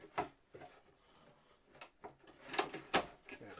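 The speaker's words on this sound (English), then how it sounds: "Then undermount drawer slides for the drawers." Wooden drawers of a walk-in wardrobe are slid and pushed onto undermount drawer slides, giving faint, scattered knocks, clicks and scraping thuds at close range.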